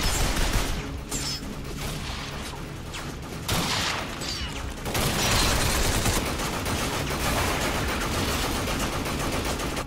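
Bursts of gunfire from a Binary Domain combat scene keep up almost without a break: dense, rapid shots layered with heavier booms, loud and continuous for the whole stretch.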